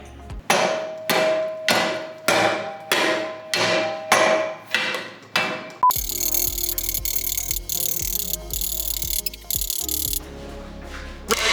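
A Damascus bowie knife chopping into wood, about nine loud, evenly spaced whacks up close, followed by a stretch of steady electronic background noise.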